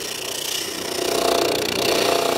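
A spindle sander runs steadily while wood is pushed around its spinning drum, giving a continuous whirring grind that swells slightly as the workpiece presses in, loud and close with no talking.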